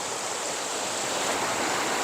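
Rushing water pours at Kaeng Pla Kaeo waterfall in Ban Bung Khiao, a loud, dense, unbroken hiss close by with no voices over it.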